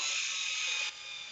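Craftsman CMCF604 cordless drill driving a drywall screw into a 2x4, heard as a short, steady high-pitched motor whine that drops slightly in level near the end.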